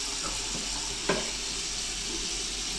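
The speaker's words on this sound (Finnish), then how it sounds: "Aukaistaan hana." Water runs in a steady, hissing stream from a toilet hand shower tap mounted beside the toilet bowl in a Finnish bathroom, with one brief click partway through.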